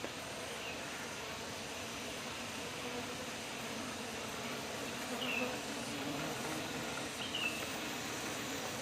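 Agitated bees swarm around an opened beehive, a faint, continuous insect buzz over low background hiss with no talking.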